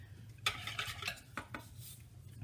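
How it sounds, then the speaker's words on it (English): Colored soap batter being stirred in a small bowl, with a utensil knocking and scraping against the sides in several quick bursts over a low steady background hum. "you want that color to be really thoroughly mixed in through the soap"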